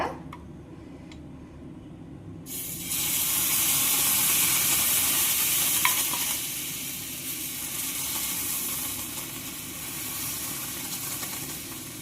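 Dosa batter, made with raw mango, sizzles loudly on a hot pan, a steady steamy hiss that bursts in after a quiet start and stays close and constant to the end.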